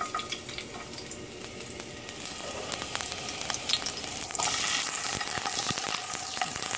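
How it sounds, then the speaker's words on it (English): Garlic and onion frying in oil in a pan, a close, steady sizzle that grows louder and brighter partway through, with occasional clicks and stirring noises and no talk. "I'm gonna put just a pinch oil in the pan to fry up this garlic and onion first."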